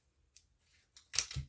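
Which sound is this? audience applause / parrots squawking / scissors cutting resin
scissors cutting resin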